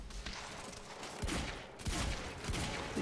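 Pistol gunfire in the video game Quantum Break, a steady burst of rapid shots and loud game action filling a few seconds with no pauses.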